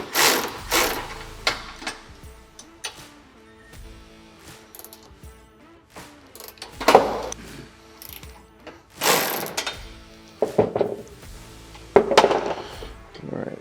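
A ratchet wrench with a 13 mm socket loosening bolts while fitting aluminum doors to a Polaris RZR Pro R 4, with bursts of clicking ratchet strokes close by, separated by pauses and occasional clunks.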